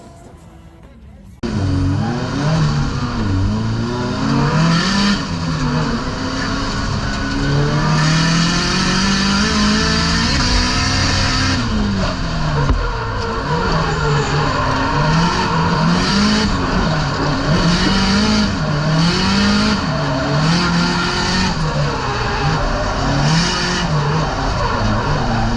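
A borrowed car drifts on a wet track during a drift battle, its engine roaring loud and continuous with repeated revving swells and pitch swings as the throttle is worked, after a short quiet start.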